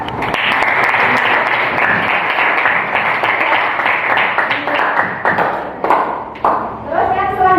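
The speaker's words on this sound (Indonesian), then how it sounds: "tepuk tangan untuk Mbak." Students in an economics classroom clap for a classmate with lively, uneven hand claps that are close and loud. The clapping thins out toward the end, and a voice starts speaking over the last claps.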